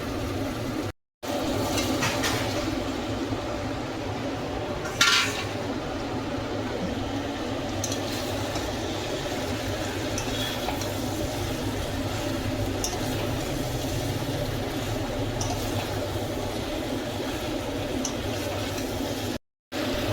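Onion and tomato fry and get stirred in a pan, producing a steady, continuous close sizzle with occasional soft scraping and stirring sounds throughout.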